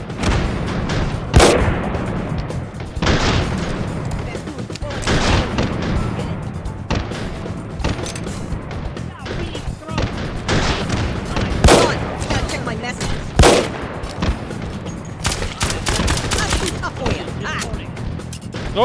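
Loud gunshots from a Derringer pistol firing JHP ammo in the VR shooting game H3VR ring out as sharp single cracks scattered across the stretch, amid other in-game gunfire and a player talking.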